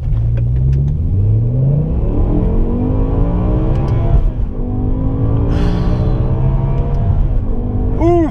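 A BMW M6 with a 507 hp V10, in sequential mode and first gear, pulls hard with a loud, close engine roar whose pitch climbs steadily through the revs, dips at a shift, then climbs again.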